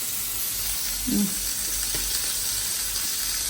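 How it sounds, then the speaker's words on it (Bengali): Pieces of fresh Italian fish fry in a pan with a steady, even sizzling hiss, close by, while a brief low voice murmurs once near the start. "এত মজা আরও ভাজতেছি সবগুলোই ভাজবো"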